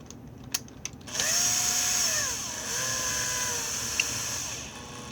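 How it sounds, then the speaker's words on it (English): Screw gun set to a low clutch level tightening screws on a Prusa 3D printer hotend, a couple of short clicks and then a sustained whirring motor that shifts pitch as it drives the screws, close and clear. "I'm going to take my screw gun again. This is why we set it to the lower level earlier. Now when I go and tighten these stuff down,"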